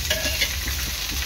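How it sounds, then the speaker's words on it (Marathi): Dried bombil fish fries on a griddle with onion, chilli and garlic, sizzling steadily up close. Light stirring scrapes come through now and then, and no one speaks. "चांगलं तव्यात लाल होईपर्यंत तळून घ्यायचं। पहा, कांदा, मिरची, लसूण पण चांगला तळलेला आहे।"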